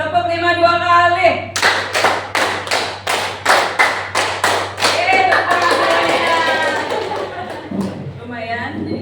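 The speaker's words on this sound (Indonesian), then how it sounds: "tepuk 5 2 kali" Participants at a school workshop clap in unison, a quick run of about ten sharp, evenly paced claps following speech, with talking resuming afterward and a steady hum underneath.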